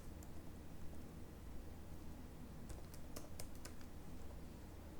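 Code typed on a computer keyboard, a faint run of quick key clicks clustered in a short burst over a steady background hiss.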